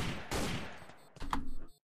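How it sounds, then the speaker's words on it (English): Gunfire in the Sneak Thief video game as a shot takes out a window on a yacht: a loud, dense burst of blasts in the first second, a brief gap, then a sharp second cluster of cracks and shattering. "You shot a window out for me?"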